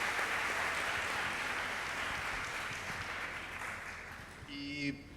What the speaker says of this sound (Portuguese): gostaria de pedir mais uma vez uma salva de palmas para este belíssimo